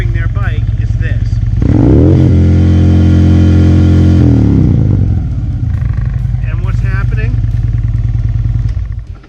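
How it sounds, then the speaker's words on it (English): A motorcycle engine revs hard as the bike is being dropped, a loud roaring surge that climbs, holds, then falls back to a rough idle with clattering, close to the microphone. "what you will hear as someone is dropping their bike is this"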